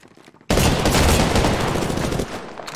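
Rapid automatic gunfire from the video game Apex Legends bursts in loud and dense for about two seconds, then tails off into softer rattling.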